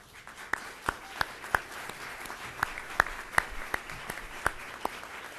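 Sparse, scattered claps ring out at a governor's clean energy announcement as state officials are recognized. About a dozen distinct sharp hand claps sound at irregular intervals over a quiet room murmur.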